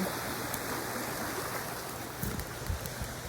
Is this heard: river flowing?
yes